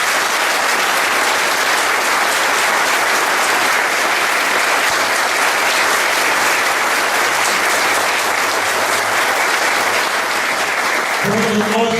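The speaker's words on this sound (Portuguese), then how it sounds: "salva de palmas ao Senhor." A church congregation claps steadily and loudly during a Catholic novena service, dense sustained applause filling the space with no voices, fading abruptly near the end.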